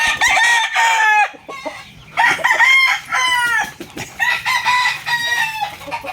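A rooster crows loudly and close by, several drawn-out calls with short clucks between them.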